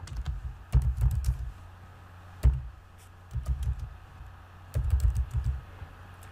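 Computer keyboard typing of a web search, short bursts of quick key clicks separated by pauses, close and clear with no talking.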